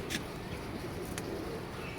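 A pigeon coos softly in low, murmuring tones against steady background noise, with a couple of brief higher chirps and no speech.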